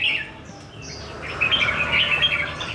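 Small caged birds chirp and tweet in short bursts, a few overlapping high calls at moderate distance against quiet indoor background in a bird-keeping room.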